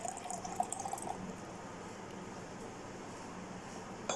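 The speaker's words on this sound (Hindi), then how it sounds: "इसमें पानी डालने के बाद अब हम इसमें डालेंगे शुगर।" Water is poured into milk in a kitchen, heard as soft, faint trickling and dripping close by, with a few small splashes early on and a quiet liquid fill afterward.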